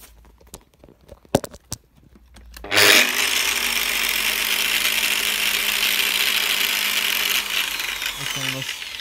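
An angle grinder set to its lowest speed switches on after a few clicks and handling knocks, then whirs steadily and fairly loud for about five seconds before spinning down.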